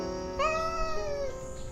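A voice imitating a cat for a rhythm game character, one drawn-out tonal meow that rises slightly, then trails off against a soft background.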